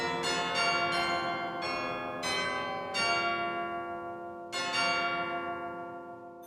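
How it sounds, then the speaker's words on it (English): Sampled tubular chimes from the Soundiron Orrville pipe organ library ring out in a church-like space, several bright struck tones in succession, each blooming then decaying with long shimmering resonance, no voices. "I really feel like the chimes resonate and add to the church environment."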